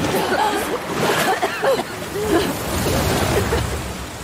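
Rushing, splashing river water in Uncharted: The Lost Legacy churns continuously under excited talk and laughter.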